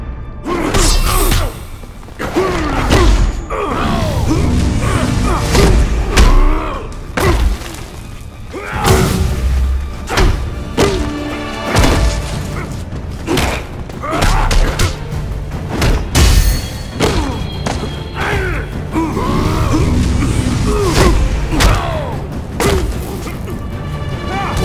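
Rapid thuds, whacks and crashing impacts from a Green Lantern arcade-ladder fight in Mortal Kombat vs DC Universe on Xbox Series X|S, dense bursts of hits over a busy game soundtrack.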